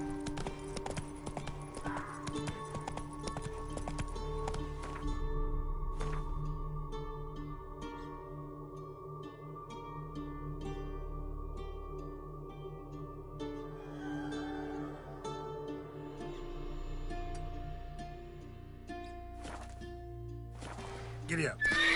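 Roach, the horse in The Witcher 3 video game, gallops with rhythmic clip-clopping hooves and a neigh, beneath game music and a voice speaking.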